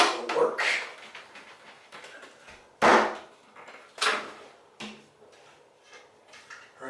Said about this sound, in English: I have to make sure they're nice and even before I nail everything in place so that the outer trim looks right